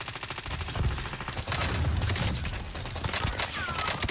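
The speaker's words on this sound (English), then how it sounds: "Sounds like a lot of fighting. Sniping off to the left." Gunfire and fighting in Call of Duty Warzone, a dense fusillade of shots and bursts crackling near and far throughout, loud and continuous, with faint voice in the mix.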